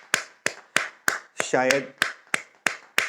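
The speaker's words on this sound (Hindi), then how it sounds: "Keep clapping, keep clapping. तालियों को बजाते रहें" Steady hand clapping during a group body-activation exercise: sharp claps land roughly three times a second in an even rhythm, close and fairly loud, with a brief spoken voice in the middle.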